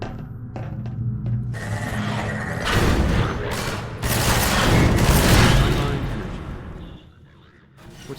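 Energy ball impact and explosion in Half-Life 2, heard as a series of heavy booming blasts and crashing thuds that swell and roll over several seconds, loud and close, then fade.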